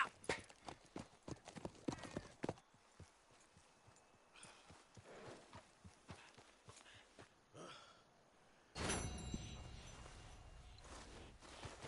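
Horse hooves clip-clop in an uneven walking rhythm in the video game Red Dead Redemption 2, close and crisp, then a louder burst of movement near the end as the horse speeds up.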